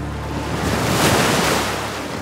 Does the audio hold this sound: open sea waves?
yes